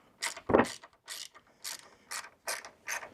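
A ratchet wrench undoes a 10 mm bolt on a Polaris RZR, giving quick close clicking bursts in short uneven strokes with brief pauses between them.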